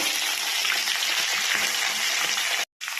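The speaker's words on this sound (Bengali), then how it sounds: "এবার আমি সবজিগুলো একে একে দিয়ে দেবো।" Mixed vegetables for a Bengali pachmishali dish, including kakrol, pumpkin, papaya and potato, sizzling steadily in hot oil in a frying pan, a continuous bright hiss that cuts off briefly near the end.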